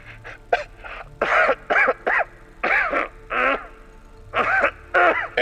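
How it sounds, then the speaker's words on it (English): Violent coughing in a dramatized SCP story: a series of harsh, strained coughs and choking gasps in irregular bursts, loud and close, with no talking. "he starts violently coughing"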